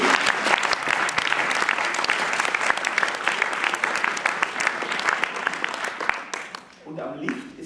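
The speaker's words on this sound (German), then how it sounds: "Erstmal einen großen Applaus" Loud, sustained applause from a theatre audience at a live comedy and music stage show, dense clapping filling the room for about seven seconds before tapering off near the end.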